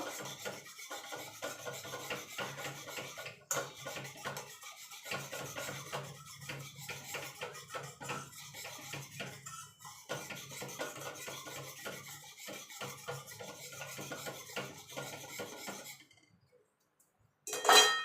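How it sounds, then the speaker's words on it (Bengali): Milk powder being stirred into warm milk for homemade mango kulfi, a steady scraping and rasping of a spoon against the pot that runs continuously and close, with brief pauses, then falls nearly silent near the end. "এবার দুধটাকে ভালো করে মিশিয়ে নেব"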